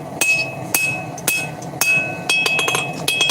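Hammer blows ringing on hot titanium at the anvil while forging tongs, sharp metallic strikes roughly every half second with bright clinking ring between them, no talk.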